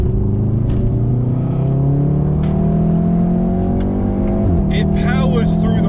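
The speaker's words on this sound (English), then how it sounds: "And the DSG, the exhaust, that sounds really, really good." A Volkswagen Golf R with a DSG gearbox pulls hard while driving, its exhaust droning loud and close as the revs climb steadily, then dip briefly on a quick shift and rise again.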